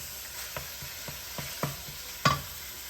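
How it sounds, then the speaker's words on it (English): Pork browns in a frying pan with a soft, steady sizzle, punctuated by a series of light, rhythmic spatula taps and scrapes that end in one louder knock, quiet and close, no voices. "I'm just gonna cook the pork and then we'll season it."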